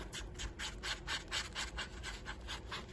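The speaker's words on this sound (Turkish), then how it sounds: "Çay karıştırır gibi karıştırıp" Zinc oxide mixture stirred in a circular motion, producing a steady run of rhythmic scraping rubs, close and fairly quiet, with no one talking.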